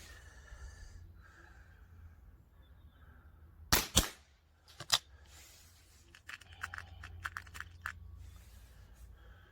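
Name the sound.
Marksman TH78D air rifle shooting dirty pellets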